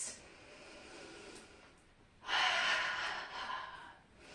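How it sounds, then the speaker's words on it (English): Slow, deep breaths during a mindful movement exercise, a quiet inhale and exhale followed by a louder, longer breath, close to the mic and with no talking. "Take some deep breaths."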